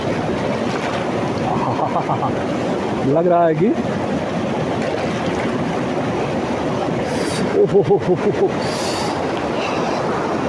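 Cold mountain river water at Chitkul rushes in a steady, broadband roar that fills the whole stretch, with someone talking over it.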